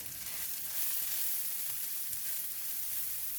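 Steady, bright sizzling of fish cake frying in hot oil, close up and fairly quiet, with no talking.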